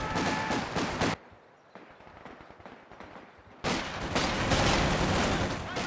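Machine gun fire and explosions in Company of Heroes 2, a muddy 3v3 battle: dense, loud bursts of gunfire and blasts, a quieter stretch of distant rattling shots, then another heavy volley of combat noise.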